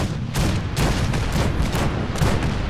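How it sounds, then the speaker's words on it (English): Cannons fire in rapid succession in the video game Fallout 4, a dense run of heavy booming blasts with loud, rumbling bursts and no pause between them. "The cannons are ready. Fire at will. Blast them with everything we got."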